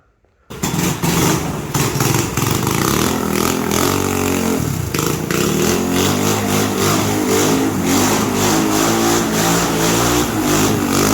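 A drift trike's small engine, fitted with new clutch springs, revs hard and loud close by, a raspy, continuous buzzing roar that rises and wavers without letting up.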